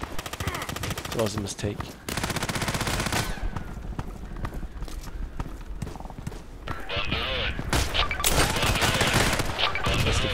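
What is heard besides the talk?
KelTec RFB rifle gunfire in video game Contract Wars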